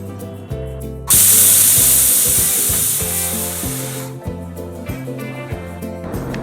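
A loud, steady hiss of steam escaping from a pressure cooker of dal on high gas bursts out and slowly fades, over a looping plucked melody with a regular beat.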